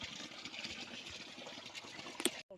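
Cattle drinking water in a village pen, a steady wet lapping and trickling under broad noise, moderately loud and close, with a brief splash near the end.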